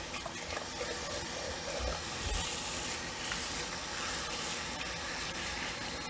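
Water streams and splashes steadily into the cavity of a raw Thanksgiving turkey being washed inside, a continuous hissing gush that stays loud and even throughout, with a couple of low thumps partway.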